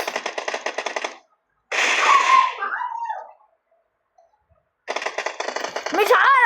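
Rapid bursts of video-game gunfire rattle in quick rhythmic volleys, fairly close and separated by short silences, as a player fires at an opponent, with a shorter scraping burst and a voice-like trailing sound in the gaps.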